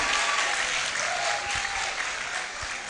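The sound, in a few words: audience applauding an awardee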